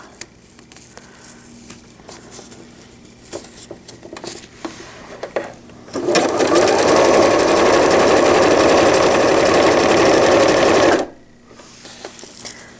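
A sewing machine runs in one steady, loud burst of about five seconds while it stitches a cloth diaper cover with gussets, with quiet handling sounds before and after.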